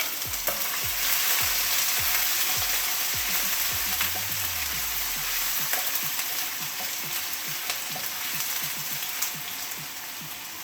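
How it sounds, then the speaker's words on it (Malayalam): Ginger sautéing in a hot pan for chicken curry, a steady crackling sizzle with spatula stirs and scrapes, close and fairly loud with no talk. "ഒരു കഷ്ണം ഇഞ്ചി എടുത്തിട്ടുണ്ട്, അതിനെ ഇട്ടൊന്ന് വാട്ടാം"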